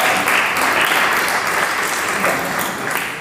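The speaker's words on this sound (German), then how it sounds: "Ein Applaus vielleicht für Sie." Audience applause at a science slam in Bonn, a steady, dense burst of clapping from a seated crowd, fairly loud and even for the whole stretch, with no voice over it.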